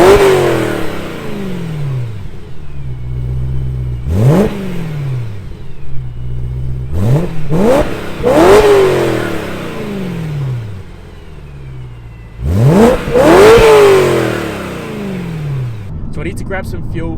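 BMW E92 M3 V8 with a 1.75 pipe exhaust mod revved hard at a standstill: several sharp, loud blips rise and fall, with a big double rev near the end, under ongoing outdoor background noise.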